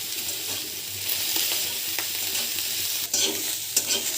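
Small chopped eggplant pieces frying in hot mustard oil, a steady close sizzle with scraping stirs and a couple of louder clinks near the end; no talking.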